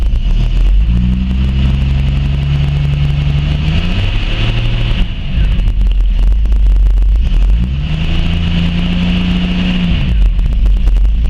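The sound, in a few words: vintage car engine running after ignition repair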